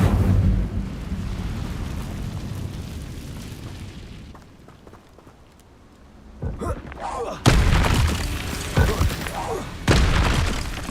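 Incendio fire spell cast in the Hogwarts Legacy video game, a whooshing burst that settles into a low rumble, then sharp bright blasts of flame toward the end over background game sound.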